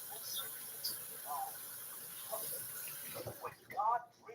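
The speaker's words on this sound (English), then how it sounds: "Now I'm going to wash my hands." Water runs from a tap as hands are washed in a home kitchen sink, a steady soft hiss with brief splashes, low in level, while a person talks over it.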